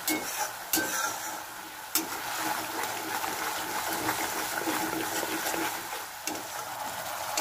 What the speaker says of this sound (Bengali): মশলাটা ভালো করে একটু কষাতে হবে।